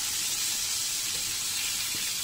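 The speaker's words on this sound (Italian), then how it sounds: "Guardiamo il nostro pesce che sta friggendo" Fish frying in a pan while green mung beans cook nearby, giving a steady, close, bright sizzle and hiss with no breaks and no voices.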